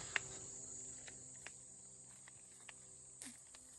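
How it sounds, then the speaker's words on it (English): A steady, high insect drone, like many bees buzzing near a creek on a dirt trail, holds through the whole stretch as a faint continuous layer, with a few soft ticks and rustles. "Wow, there's a lot of bees."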